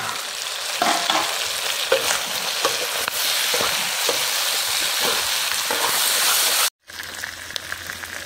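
Potatoes for an Assamese local chicken curry sizzle and fry steadily in a pan, a continuous close crackle with occasional stirring scrapes, cutting off abruptly near the end before quieter sizzling resumes.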